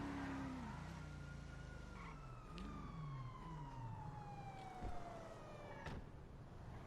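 A police siren in a Transformers video game wails, rising and falling, accompanied by a steady engine drone, with a few sharp clicks along the way.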